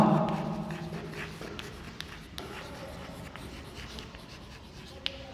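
A pen writes a math expression by hand, giving quiet, close scratching strokes in short bursts and a faint tap near the end, over low room noise.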